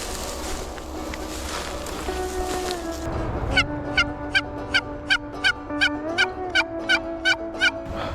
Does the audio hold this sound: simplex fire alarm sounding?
no